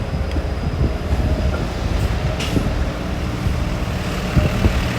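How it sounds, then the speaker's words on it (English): A Toronto streetcar rolls past on Danforth Avenue in Greektown, a steady low rumble and rail clatter close by, blended with city traffic noise and no talking. "There goes by the streetcar"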